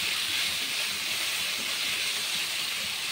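Potatoes frying in hot oil in a pan while making a spicy fish curry, a steady, loud broadband sizzle and hiss that continues evenly with no talk.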